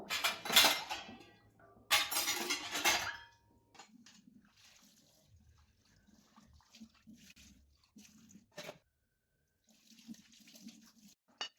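Clean dishes, including plastic ones, are unloaded from a dishwasher with sharp clatters and clinks: two loud bursts of rattling early on, then sparse, softer knocks and taps, with no talking.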